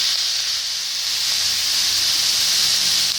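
Squash drops into a hot pan for Filipino pinakbet and sizzles with a loud, continuous, steady hiss that fills the short stretch without a break and without any talking.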